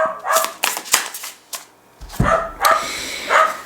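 A dog barks indoors in a basement, a close burst of about six sharp barks in two clusters with a brief quiet gap between.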